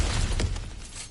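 In the God of War video game, cracked ground is smashed open with a single sharp crunching shatter. The hit is loud and near, and its debris fades out over about a second.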